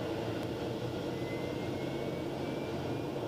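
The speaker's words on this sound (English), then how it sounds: "gonna ease the prop RPM up to 2000. And advance our takeoff power" A TBM850 turboprop airplane engine running up to takeoff power, heard as a steady, loud, dense roar and hum with a faint whine on top, holding constant without a break.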